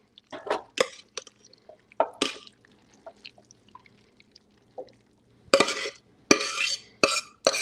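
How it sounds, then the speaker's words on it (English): Chorizo mac and cheese poured from a pot into an 8 by 10 casserole dish, giving wet squishy plops and light clinks of metal on dish in irregular bursts, close up with no talk. "And we're just going to pour it right into the casserole dish."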